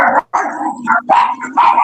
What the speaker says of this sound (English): If that fucking dog doesn't shut up, wow, that dog is so disrespectful